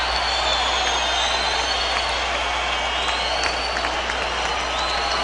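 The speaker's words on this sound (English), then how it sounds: "The crowd is ecstatic" A large boxing-arena crowd cheers and applauds after a Roy Jones fight against Antonio Tarver, a sustained roar with clapping and whistles that stays loud and dense throughout.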